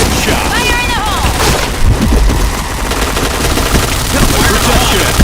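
Gunfire and grenade blasts in the shooter game PointBlank, with dense bursts of automatic fire and booms going on continuously, under talk from a player.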